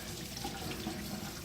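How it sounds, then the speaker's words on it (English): Warm water runs steadily from a faucet into a sink while latex paint is washed off hands, a soft continuous close stream with faint splashing. "Washes right off with a little bit of warm water."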